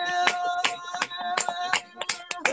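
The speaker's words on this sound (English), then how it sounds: "One more clap for Mommy." A group claps for Mommy at a Mother's Day celebration for an evangelist, a handful of sharp, scattered claps heard close over a steady sustained musical tone.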